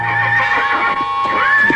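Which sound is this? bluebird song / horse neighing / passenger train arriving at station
horse neighing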